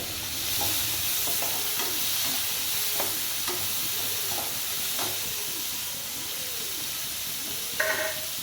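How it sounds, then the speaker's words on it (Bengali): Chopped onions fry in a pan over cumin seeds for a prawn masala, giving a constant close sizzle and hiss broken by repeated stirring scrapes, without talk. "ভালো করে আমি পেঁয়াজ কুচিটা ভেজে নেব।"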